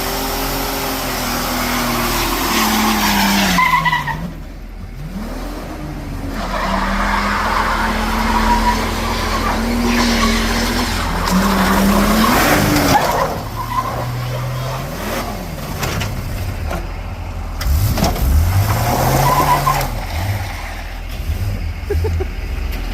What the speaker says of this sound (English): One side of the burnout.